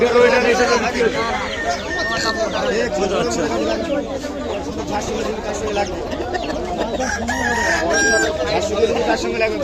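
A rooster crows loudly nearby over constant chatter from a crowd at a poultry market, with clucking fowl mixed in.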